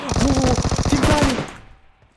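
A rapid burst of automatic gunfire in the mobile battle royale game PUBG Mobile: about a dozen loud, evenly spaced shots in quick succession, then a fading tail.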